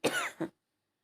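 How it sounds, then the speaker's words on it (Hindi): A single close, dry cough with a quick second hack, followed by silence. "मेरा खांसी होने लगी, थोड़ी उठने लगी खांसी।"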